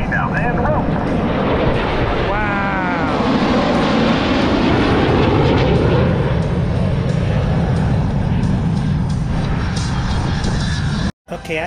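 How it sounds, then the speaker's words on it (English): Thunderbirds jets roar loudly and continuously overhead during a simultaneous aileron roll at the Atlantic City, New Jersey airshow, with a broad engine rumble filling the whole stretch and a voice briefly audible early on. "calls for the four Diamond pilots to perform simultaneous aileron roll."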